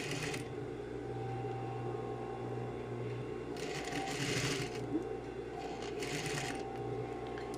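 A sewing machine stitches bias binding along a pressed line on fabric, a continuous close mechanical whir with steady hum and brief louder bursts of rapid stitching, no voices.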